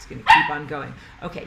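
A dog gives a sharp bark followed by softer squeaky whimpers and yips, close by and mixed with a person talking.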